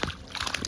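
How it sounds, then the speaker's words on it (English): A small fish released back into the water while fishing, a brief close splash and slosh lasting under a second with a faint voice in the background. "Put you back in the water, little guy."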